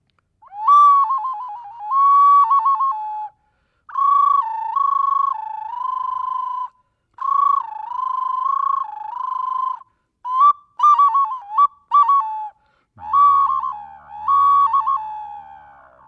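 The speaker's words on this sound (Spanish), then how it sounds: "Es un silbato también hecho en barro." A clay whistle blown in a series of sustained, wavering tones, with pitch bends and a few short rapid trills, loud and close, alone.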